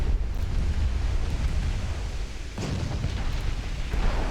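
A torpedo strike detonates in a naval combat game, a heavy low rumbling blast that rolls on continuously, with a sharper fresh impact surge partway through over a dense roar like wind and sea.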